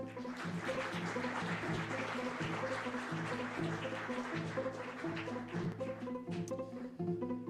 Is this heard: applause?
yes